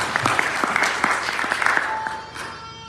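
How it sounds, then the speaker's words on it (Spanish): A church congregation breaks into applause, a dense wash of many hands clapping steadily at moderate volume and tapering slightly toward the end, with no talk over it. "Yo creo que eso merece un aplauso al Rey de Reyes."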